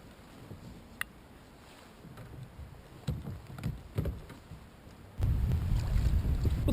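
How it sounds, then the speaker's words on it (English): Breeze buffeting the microphone on a kayak while fishing at sea, mostly quiet with a few light knocks, then a sudden louder, steady rush of wind noise over the last second and a half. "Well, the breeze has picked up a little bit now."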